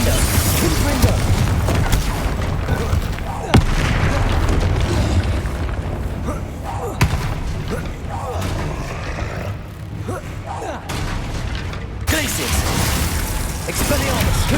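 Spell blasts from the Confringo fire curse in the Hogwarts Legacy video game: repeated loud booming explosions and crashing impacts in a dense combat mix, with shouted spell incantations between bursts.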